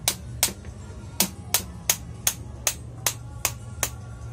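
A small hammer taps wire into a wooden plant-pot base sharply about ten times in a steady rhythm, close by and crisp, over a faint low background hum.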